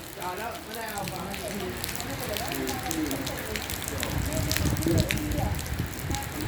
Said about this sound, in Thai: ฝนเป็นเหตุสังเกตได้